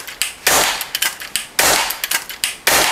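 A gun is test-fired in a rapid string of shots to check that it feeds smoothly from first round to last, producing sharp, loud, close cracks at an irregular fast rhythm.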